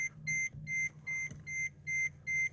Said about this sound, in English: you can see the beep, beep, beep is just telling me that the